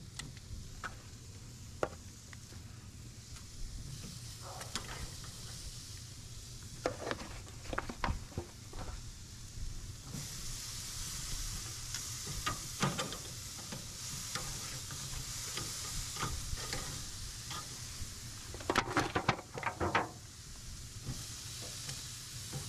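Thick ribeye steaks sizzle and crackle on a grill, a steady frying hiss with scattered pops and occasional scraping ticks, close and continuous without talk.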